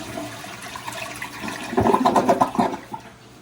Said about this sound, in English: It's supposed to be a stronger flush, right? With the 4-inch flap.